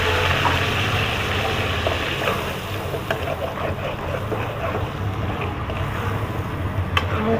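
A spice paste of ground onion, ginger and garlic fries in a pan for prawn masala, giving a steady, dense sizzling hiss with scattered small crackles throughout.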